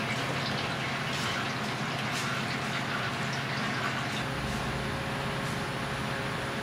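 Steady, continuous trickle and splatter of motor oil draining from a loosened drain plug on a Camaro ZL1, a constant wash of noise with no breaks, close by.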